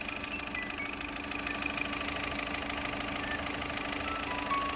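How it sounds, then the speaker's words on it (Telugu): A used vehicle's engine idles steadily with a faint knocking beat, a low continuous hum and light vibration running throughout at moderate distance, no voices. "ఇంజన్ బీటింగ్ నీట్గా ఉంది"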